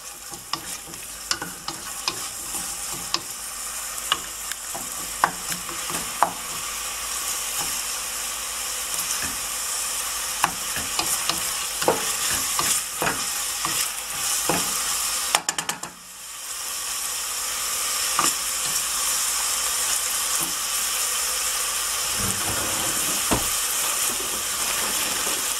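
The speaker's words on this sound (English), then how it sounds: "when this onions are getting fried, I'm gonna add this dried garam masala" Chopped onions fry in a pan with dried garam masala, giving a steady bright sizzle broken by frequent scraping stirs and a brief pause partway through before the frying hiss resumes.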